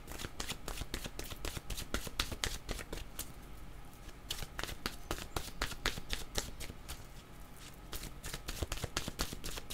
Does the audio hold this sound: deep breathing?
no